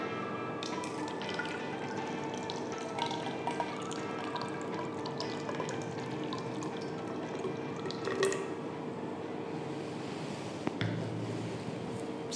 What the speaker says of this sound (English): with the help of measuring cylinder, I am taking 90 ml of water.